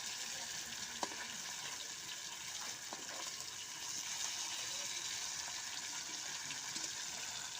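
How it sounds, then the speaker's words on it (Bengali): Fish frying in a pan gives a steady, moderately loud sizzle that holds throughout, with a couple of light knocks early on and no one talking. "মাছগুলো হালকা হয়ে গেছে তো হালকা লাল লাল করে ভেজে নেবো"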